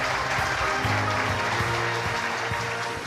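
Wedding guests applaud a newly married couple at a French civil ceremony, a steady wash of clapping from a crowd with low tonal background sound beneath it.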